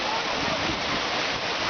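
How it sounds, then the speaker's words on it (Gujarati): Chimer waterfall in Dang, Gujarat, where four falls drop together and merge, gives a steady, dense roar of rushing water with no breaks. "4 ધોધ એક સાથે નીચે પડી અને ભેગા થઈ અને જાય છે"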